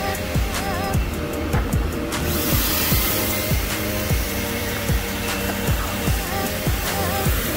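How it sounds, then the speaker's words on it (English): A free self-serve vacuum at an Auto Spa Express car wash runs loud and steady, its motor drone joined by a rhythmic series of knocks and thumps as the nozzle works inside a car. "using the vacuum here, it just helps a lot."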